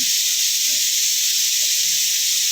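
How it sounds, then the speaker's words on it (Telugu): Tamarind broth pours into a hot pan of okra and sizzles at once, a loud, steady hiss of steam and frying that holds evenly throughout with no voices. "పులుసు పోసేసుకుందాం"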